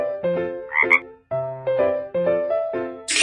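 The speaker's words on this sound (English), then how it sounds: "Frog." A cartoonish frog croak from a children's learning game, repeated in a quick rhythmic series of bright tonal croaks, loud and close, with a short burst of noise at the end.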